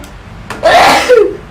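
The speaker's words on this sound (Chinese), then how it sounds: "我打喷嚏" A young woman lets out a single sneeze, brought on by a nasal swab test. It opens with a short sharp inhale and then a close, breathy burst, with no talking.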